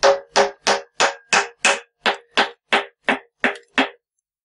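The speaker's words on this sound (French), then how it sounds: "on va venir tapoter sur le côté de la culasse" A small hammer taps through a wooden block against the side of a Renault 4L engine's cylinder head to free it, giving twelve sharp, evenly spaced knocks that ring briefly, close and loud with nothing else heard.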